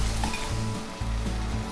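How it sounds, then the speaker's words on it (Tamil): Tomato and cabbage sizzle steadily as they sauté in a pan, a close, continuous crackle with faint stirring and no voices. "தக்காளி கோஸ் நல்லா வதங்கிடுத்து."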